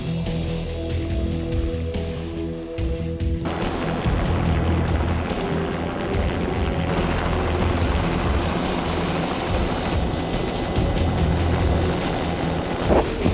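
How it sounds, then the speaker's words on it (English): A helicopter hovers over a glacier below a steep cliff, its rotor and engine making a loud, steady, close drone that holds throughout with no talking. "The cliff was too steep to land the helicopter."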